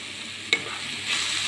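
Stirring mashed banana in a frying pan: a quick scrape of the spoon against the pan over a continuous soft sizzle, close and brief.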